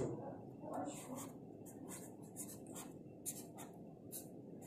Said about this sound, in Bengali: লিখবো এখন